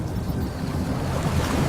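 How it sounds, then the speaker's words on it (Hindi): Water sloshing and lapping around a boat launched onto a lake, a steady, soft wash of waves with some wind rumble and no voices. "दोनों ने नाव को खोला और झील के पानी में उतार दिया।"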